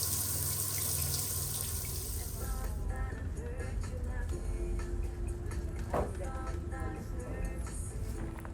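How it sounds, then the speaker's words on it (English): A hotel tap on the Canary Islands runs in a steady close splashing stream that fills the whole stretch, with faint ticking and clatter beneath it. "Running water on these islands really were a luxury too."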